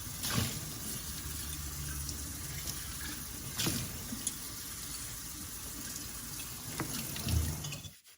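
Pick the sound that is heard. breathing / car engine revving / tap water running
tap water running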